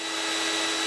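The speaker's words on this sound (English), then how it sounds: "Vacuum's on." A steady, loud motorized whine with a broad rushing roar, a vacuum running continuously beside a grinder in a machine workshop, with no voices.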